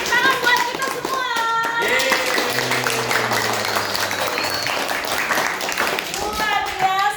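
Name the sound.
audience clapping hands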